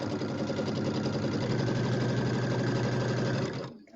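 Sewing machine stitching a quilt border onto a pineapple-pattern quilt, one continuous loud close run of rapid stitching that stops abruptly at the end.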